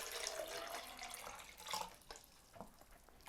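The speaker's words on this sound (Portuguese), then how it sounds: "Então agora é só jogar essa água aqui fora" Water tipped out of a coffee-making setup while preparing iced coffee, heard as a close, bright splashing pour in bursts with trickles and drips, no talk.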